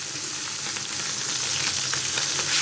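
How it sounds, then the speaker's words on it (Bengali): Fish frying in oil for Bengali fish bhuna gives a brief, close, steady sizzle with fine crackles as a piece is turned, the hiss swelling slightly toward the end, no one speaking. "কিছুক্ষণ ভাজার পর মাছটা আমি উল্টে দেব।"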